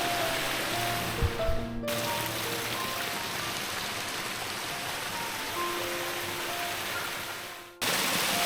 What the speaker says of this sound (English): we're met by these particularly cool looking waterfalls